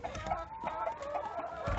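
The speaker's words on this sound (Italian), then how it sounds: "in prima posizione la gallina ovaiola" Laying hens and other chickens in a coop cluck continuously and close by, with overlapping calls and no talking.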